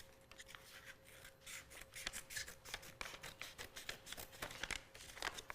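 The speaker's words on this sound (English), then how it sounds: "I'm gonna cut on the other side of the bottom of the bag" Scissors snip and rustle through the bottom of a paper bag during junk journal crafting, quiet, rapid crisp cuts and paper crinkling in a close, otherwise silent room.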